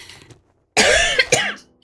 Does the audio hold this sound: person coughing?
yes